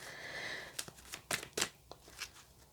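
Large tarot deck shuffled by hand at an awkward angle, giving a few short papery riffles and slaps in uneven bursts, close and moderately quiet, with no talking.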